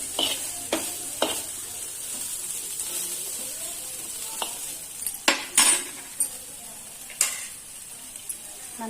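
Karchikai, a sweet stuffed dumpling, frying in oil over a medium flame, giving a steady soft sizzle broken by occasional scrapes and clinks of a spoon against the pan, with no voices.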